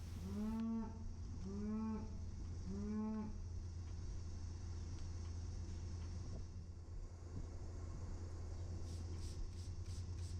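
Several cows moo in sequence while waiting in line to be trimmed at a hoof-trimming session. Three or four long, deep, clear moos come early, then a steady low hum and farm rumble carry on to the end.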